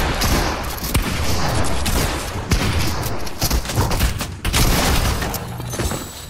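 Loud, nonstop gunfire in the video game Fortnite, rapid overlapping shots and bursts with a few heavier booms, a dense fusillade that barely pauses across the whole stretch.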